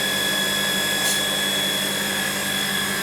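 A continuous rushing drone of water flowing through a Fabdec milk tank's wash pipework, steady and fairly loud, with a faint high tonal whine on top.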